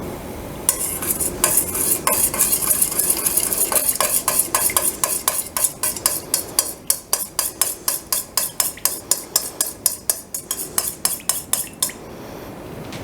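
A spoon stirs melting beeswax pellets, shea butter and almond oil in a pan and clinks against the metal in a fast, regular rhythm. Several dozen bright taps play over a faint sizzle, then stop near the end.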